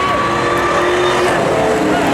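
A Toyota Tundra pickup at a night truck drag race, its engine letting out a high, steady whine over a dense roar, heard from the spectator area with crowd noise and voices mixed in.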